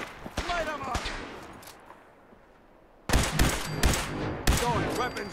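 Bursts of rapid gunfire in Fallout 4, a few shots, a pause, then a loud sustained volley of repeated shots close up with a voice heard faintly among them.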